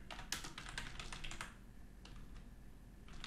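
A computer keyboard clatters with a quick burst of typing while writing code, faint and close, followed by a few scattered keystrokes after a short pause.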